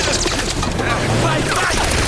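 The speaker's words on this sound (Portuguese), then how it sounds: "Os caras com as armas assim que dispara 1000 tiros por segundo e não acertam" Rapid enemy gunfire rattles through a train level of Uncharted 2: Among Thieves, a dense, continuous barrage of shots with booming impacts under constant game noise, while voices talk over it.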